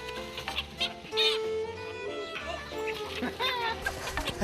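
Chickens being driven into a net cluck and squawk up close, agitated, with a rooster-like call, over a busy outdoor background with some voices in rural Cambodia.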